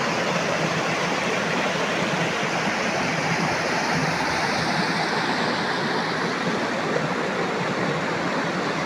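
Waterfall in a stream pours in a steady, dense rush of water, loud and unbroken throughout with no voices.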